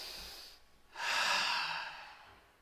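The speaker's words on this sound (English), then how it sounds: "Take a deep breath, everyone." One slow, deep breath: a faint intake followed by a fuller, airy exhale, close and alone in a quiet room.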